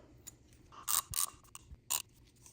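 A drain plug is tightened during a home car oil change, giving several short bursts of ratcheting clicks close by and a few soft knocks, with no voices.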